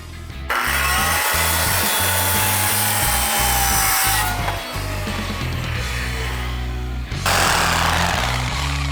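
Power saw cutting through wooden deck posts, a loud continuous whine and rasp of the blade in timber with a brief pause midway, then cutting resumes strongly near the end.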